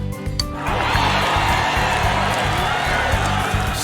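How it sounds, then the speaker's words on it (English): A large crowd roars in Persona 4 Golden, a sustained loud cheering wash that swells in after a short game tone and holds steady, with a low rhythmic pulse of background music underneath. "The roar of the crowd is insane this time."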